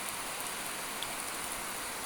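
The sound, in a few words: heavy rain falling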